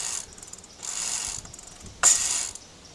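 Freewheel ratchet on an electric bike project clicks in quick bursts of fine rapid ticks, three separate spins with short pauses between, close and fairly loud.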